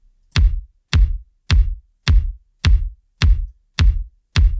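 A synthwave kick drum run through an Oxide tape recorder plugin for added low-end warmth hits eight times in a steady, evenly spaced pulse, each thump short, full and alone.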